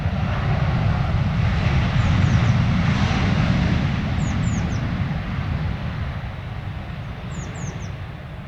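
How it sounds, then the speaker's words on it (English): Air Moldova airliner on final approach at London Stansted Airport, a steady broadband engine roar heard from the ground that swells slightly and then eases off, with faint bird chirps and no talking. "And now we've got an Air Moldova on final."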